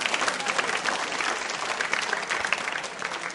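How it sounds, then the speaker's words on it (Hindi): Loud, steady applause from a large audience at a school quiz show, dense clapping filling the whole stretch without a break. "इस बात के लिए बजा सकते हैं जोरदार तालियां आप।"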